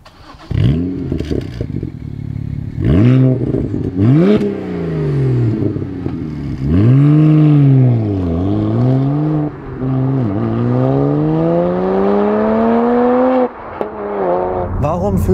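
A 2012 BMW 1 Series M Coupé accelerates hard through several gears, the engine note rising loudly and dropping at each upshift, recorded close with occasional clatter.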